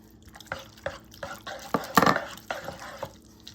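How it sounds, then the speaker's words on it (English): Pre-mixed egg goes into a chicken and broccoli casserole: wet pouring and stirring sounds with drips, a louder splash in the middle and soft scraping around it. There is no talk. "I'm gonna throw in an egg real quick that's pre-mixed a little"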